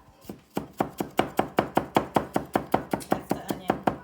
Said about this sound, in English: She that's chops the garlic. like the professional